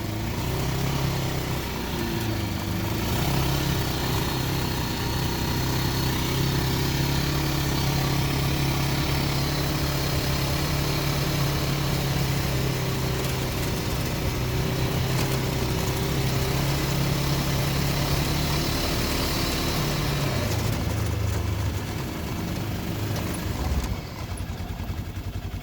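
A turbocharged RZR side-by-side engine runs steadily with vice grips clamped on the exhaust, a loud, rough, droning idle that holds constant for the whole stretch with no voices.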